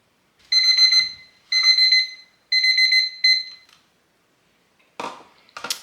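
A kitchen timer goes off beside a crockpot of pumpkin bread. It sounds four loud, close bursts of rapid beeping, then falls silent and is followed by faint handling clatter.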